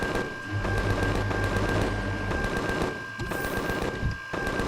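Gunfire from a weapon in the space survival game Empyrion Galactic Survival, a dense run of rapid shots with heavy low rumble, loud and close, broken by brief pauses near the end.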